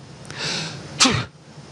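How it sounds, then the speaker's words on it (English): A single sneeze with a breathy intake followed by a sharp burst, close up in a quiet room. "I'm going to sneeze"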